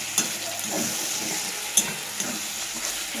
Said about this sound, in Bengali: চিকেনটা আমার ভালোভাবে কষানো হয়ে গেছে